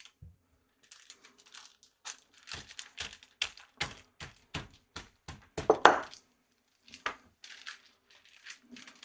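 A round bowl pressing a beef burger patty flat on parchment paper makes a run of sharp, close taps and dull knocks in an irregular rhythm, with one louder crinkling press partway through and no talking.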